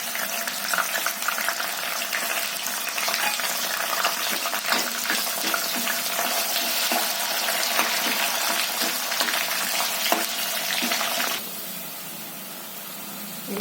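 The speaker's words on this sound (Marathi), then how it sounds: "आता मी कढीपत्ता घालते" Curry leaves sizzle and crackle in hot oil with wet masala, a steady close frying hiss that runs loud and unbroken before dropping to a softer simmer near the end.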